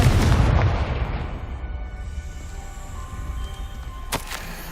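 A Confringo blast spell goes off in the Hogwarts Legacy video game: a loud, broad boom at the start that rolls and fades over a couple of seconds, followed by a low rumble and a sharp crack near the end.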